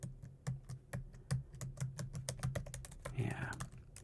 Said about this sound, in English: Yeah, this is a very nice keyboard.